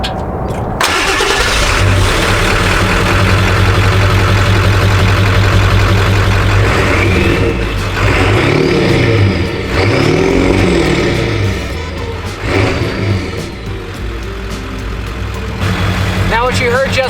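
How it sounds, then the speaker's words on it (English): A 1996 Ford F350 truck engine starts and runs loud and raw, rising and falling through revs with a whooshing turbo whistle, the turbo bolted straight to the exhaust with no muffler; voices talk over it. "what you heard just there was the turbo bolted directly to the exhaust without a muffler behind it"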